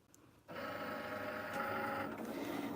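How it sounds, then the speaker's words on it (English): A hobby cutting machine runs steadily while slicing material, a continuous mechanical whir with a faint high whine that starts abruptly after a quiet moment and holds at an even level, close and alone. "so that's how the machine is cutting right now"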